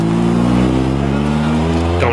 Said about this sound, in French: Quand la Clio Maxi s'éloigne